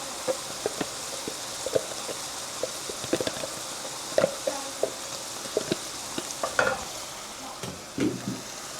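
Chili puree stirred into browning taco meat in a pan, a constant sizzle broken by frequent sharp scrapes and clacks of the utensil against the pan, close and unaccompanied by voices.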